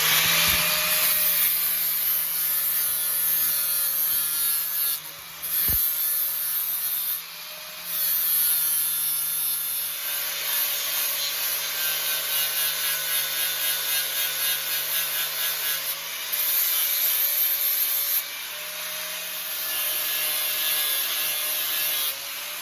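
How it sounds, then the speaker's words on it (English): An angle grinder fitted with an 80 grit flat disc grinds steadily on a cheap steel hammer head, a loud continuous abrasive whine with a few brief pauses and no talk. "I've got a 80 grit flat disc on the angle grinder"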